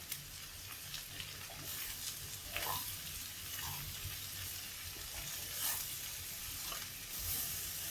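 Bitter gourd curry being stirred in a pan with coriander powder, heard as a soft steady sizzle with occasional faint scrapes of the spoon, quiet and unbroken by speech.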